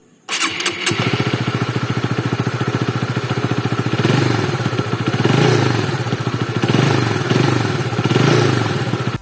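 A Honda Supra GTR 150 manual-clutch motorcycle engine starts up and settles into a steady, loud close-up running rhythm with rapid regular firing pulses, swelling slightly in intensity a few times, with no voices.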